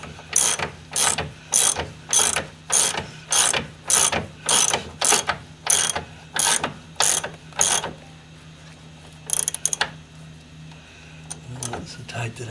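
Ratchet tightening on the cam of a Mercedes 300D engine, about a dozen evenly spaced loud clicking strokes in a steady rhythm, then a pause and a few more scattered clicks, with a low hum beneath.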